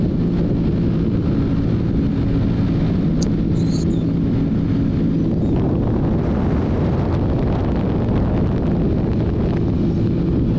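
Heavy, constant wind buffeting roars over the microphone while riding a 2021 Ducati Panigale V4S, broad and loud throughout, with the engine faintly buried beneath and no voices.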